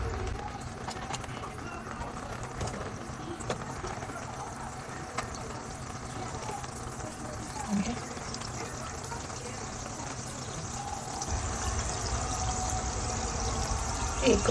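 Mini samosas frying in hot oil in a pan over a medium flame, a steady bubbling sizzle that runs throughout at moderate level, with a person talking over it.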